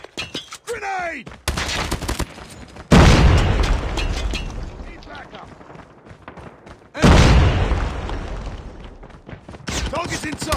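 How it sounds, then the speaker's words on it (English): Two heavy grenade explosions go off seconds apart in a Call of Duty match, each a loud sudden boom that trails into rumbling debris, with gunfire crackle and shouting voices around them. "Grenade."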